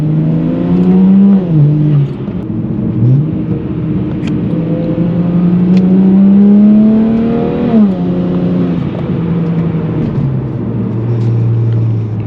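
A BMW 335i E92 accelerates under boost after its intake vacuum lines were replaced, its engine note climbing steadily through several rising sweeps with a gear change midway, loud and continuous from inside the car.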